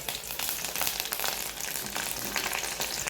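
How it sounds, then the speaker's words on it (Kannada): Green chillies frying in hot oil for vada pav, a dense, steady crackling sizzle that stays loud and close throughout with no voices. "ಕಾದ ಎಣ್ಣೆ ರೀ ಮೆಣಸಿನ್ಕಾಯಿ ನೋಡಿರಿ ನೆಕ್ಸ್ಟ್ ಕಾದಿನ್ಯಾಗ ಫ್ರೈ ಮಾಡ್ಕೋಬೇಕು"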